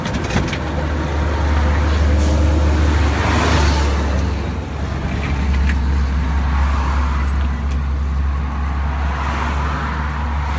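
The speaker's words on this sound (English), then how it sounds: "There's quite a long line of traffic here." A continuous stream of cars and trucks rolls past on a busy road nearby, a loud, steady roar of tyres and engines that swells and eases as vehicles go by.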